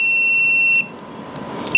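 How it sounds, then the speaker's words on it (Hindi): An OWON XDM2041 benchtop digital multimeter in buzzer continuity mode gives a loud, steady high-pitched tone that cuts off abruptly, followed by a quieter short beep near the end. "इसके बजर मोड का इसका साउंड भी काफ़ी अच्छा है"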